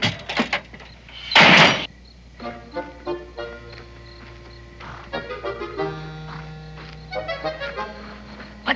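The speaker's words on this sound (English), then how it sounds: "I knocked over the benches, all." Wooden benches are knocked over indoors in a frontier setting: a loud clattering crash near the start, with a few scattered knocks and bumps before softer tonal sounds take over.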